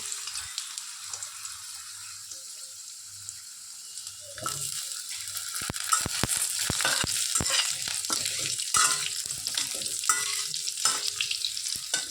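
Potatoes frying in a pan for a Bengali drumstick curry with bori, bay leaf and five-spice, starting quietly then breaking into loud, steady sizzling with stirring scrapes and clinks, no talk.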